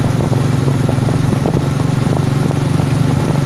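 Vehicle engine puttering steadily at low speed through a narrow residential lane late at night, a close, constant mid-pitched drone with faint rhythmic ticking and no voices.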